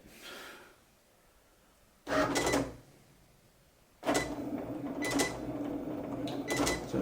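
A cutting plotter cuts small letter markings for a 1/24 scale Hawker Hurricane model, with a quiet start, then two bursts of motor whirr and scraping, the second sustained and louder, fairly close.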